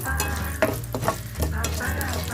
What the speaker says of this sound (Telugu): ఈ ఎండుమిరపకాయలు కూడా ఏగిపోతున్నాయి